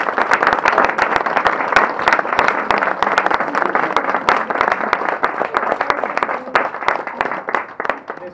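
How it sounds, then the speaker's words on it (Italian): A crowd at the Festa di Santa Maria del Carmelo, a religious festival in Mandanici, claps and applauds steadily with dense, continuous clapping throughout, no voices above it. "vi chiedo un applauso per il portatore"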